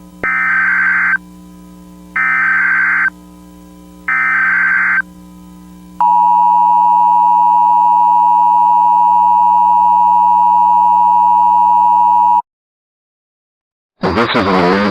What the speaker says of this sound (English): This message is being transmitted by the Emergency Alert System.